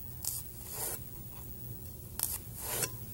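A knife slices through a vegetable with its root end left on, giving two short crisp cutting strokes a couple of seconds apart, close and clear over quiet room tone.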